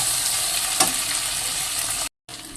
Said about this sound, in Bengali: টমেটো কুচিগুলো একটু দিয়ে দিলাম, দিয়ে একটুখানি ভাজা ভাজা করবো টমেটোর সাথে